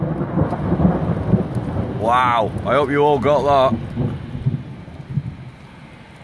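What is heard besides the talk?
thunder during a thunderstorm with rain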